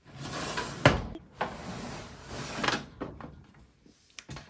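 A makeup drawer in a storage unit slides open with a hard knock followed by a rolling scrape, then more thumps and sliding rattles, close and fairly loud in a quiet room.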